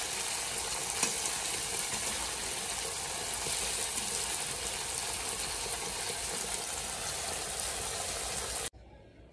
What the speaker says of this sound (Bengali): আর এদিকে দেখো চিংড়ি মাছগুলো ভাজা বসিয়ে দিয়েছি।